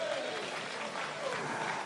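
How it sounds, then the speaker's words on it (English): A crowd at a National Democratic Congress event in Ghana applauds the regional youth organizers, a continuous, fairly faint wash of clapping and crowd noise from a distance over the whole stretch, with a few voices mixed in. "Round of applause for them as well."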